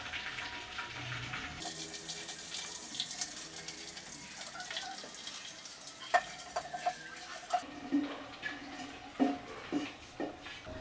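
Marinated chicken tipped into a hot handi pan, a broad sizzling frying hiss with stirring clatter and spoon knocks against the vessel, close and fairly quiet with no talking.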